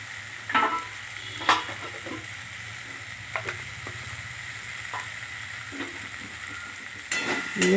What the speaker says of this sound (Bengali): দিয়ে আবার ভালো করে কষতে থাকলাম মশলাটা।